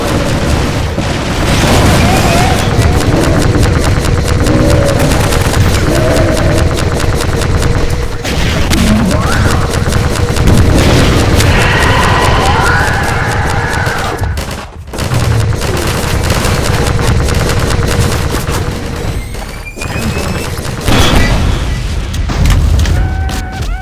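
Half-Life 2: Episode 2 battle against a Strider at a sawmill, loud dense gunfire and booming explosions nearly nonstop, with voices calling out amid the fighting.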